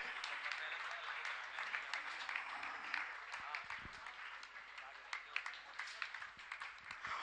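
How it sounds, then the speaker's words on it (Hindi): At a Jain religious gathering, an audience keeps clapping in a continuous, even round heard from some distance, fairly quiet, with a few stronger claps standing out. "आपकी तालियां बजती रहे।"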